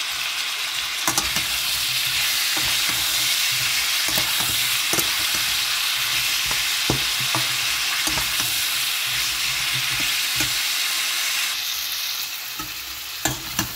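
Spices, tomato and green chili sautéing in a pan, giving a dense, loud, steady sizzle with intermittent scrapes and knocks of a stirring spoon, close and continuous for a long stretch with no speech.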